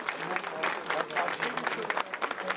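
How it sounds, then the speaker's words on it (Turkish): Mourners applaud at the funeral of a Yeşilçam film actor in Istanbul, a dense crowd clapping close and steady for a few seconds. "Yeşilçam efsanesi Kayhan Yıldızoğlu son yolculuğuna alkışlarla uğurlandı."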